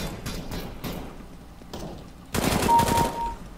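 Gunfire from an MP5SD in the CS:GO video game, heard as brief muffled shots and then a louder, denser burst of fire near the end, with no talking.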